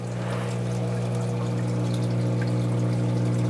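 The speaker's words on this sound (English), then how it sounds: "You see all those drips coming down?" Water trickles and drips steadily through bio balls in a reef aquarium filter, a continuous close splashing over a strong, steady pump hum, with no voices.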